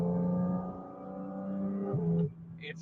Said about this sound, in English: this GT3 engine sitting right behind me, and I've got intakes right there, so you can hear it just like literally just sucking in air